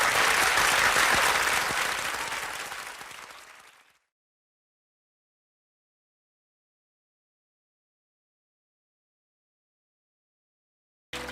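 A crowd applauding and cheering at a singing competition, loud dense clapping at the start that fades out within about four seconds, then silence.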